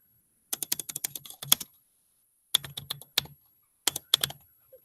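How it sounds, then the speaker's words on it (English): A computer keyboard being typed on, with three quick, close bursts of crisp key clicks separated by short silences, and no talking. "now if I wanted to type it out"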